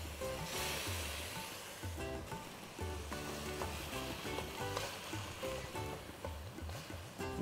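Fresh and canned tomato puree with spices boiling in an open pan, a steady close sizzling and bubbling hiss with soft popping, with no talk over it.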